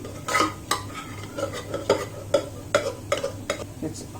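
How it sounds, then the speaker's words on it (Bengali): The back of a spoon mashes cooked dal in a pot, giving a series of soft, squelchy thuds and scrapes in a steady rhythm close by, over a low background hum. "এবার ডালটাকে একটু ম্যাশ করে দেব চামচের পেছনটা দিয়ে"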